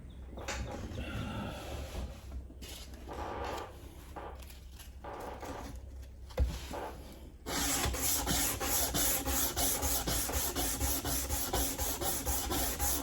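A belt grinder works the plunge line of a machete blade with a steady abrasive rasp and a low hum. Partway through it shifts to a brighter, louder continuous grind that holds to the end.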